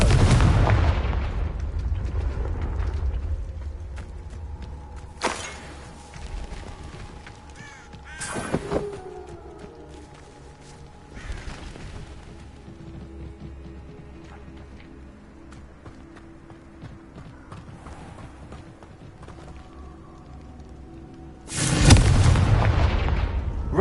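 Explosions from a Confringo blasting spell come as a few sharp, loud blasts spread far apart. A big burst opens the stretch and another loud one comes near the end, with quieter rumbling and crow-like calls between them.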